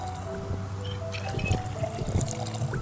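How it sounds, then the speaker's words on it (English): In the video game Project Zomboid, a character drinks water. Liquid trickles and pours in a soft, uneven run, with faint clinks and small splashes close by. "You want to get a drink of water before you leave?"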